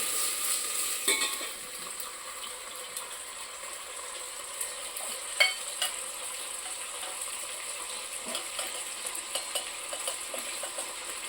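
Tomato pieces sizzling steadily in hot oil in a pan for rasam, a continuous soft frying hiss with occasional stirring clicks and scrapes, no voices.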